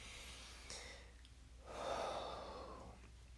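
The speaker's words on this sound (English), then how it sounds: "let's take a deep breath" A single deep breath, drawn in softly and then let out in a long, audible exhale, close and quiet with no talking.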